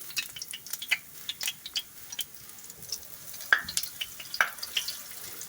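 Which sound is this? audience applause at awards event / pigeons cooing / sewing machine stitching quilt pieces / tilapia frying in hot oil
tilapia frying in hot oil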